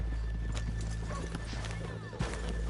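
Steady horse hooves clip-clopping at a walking pace in the video game Red Dead Redemption 2, over a constant low hum, with a brief louder knock near the end.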